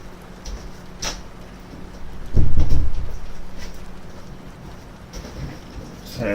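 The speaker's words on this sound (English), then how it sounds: "Okay, it was raining." Steady rain falls outside, with a low rumble of thunder swelling near the middle and fading slowly, plus a few sharp knocks and taps scattered through the hiss.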